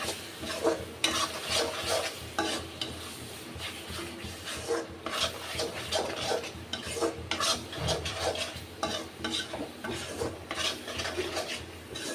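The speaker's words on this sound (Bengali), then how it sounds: "সস দিয়ে এটা ভালো করে কষাবো যতক্ষণ না টমেটোর স্মেলটা কাঁচা স্মেলটা চলে যায়" Jackfruit curry is stirred in a pan with tomato paste and sauce, a spoon scraping and rasping against the pan in repeated strokes over a low, steady sizzle, close and clear with no talking.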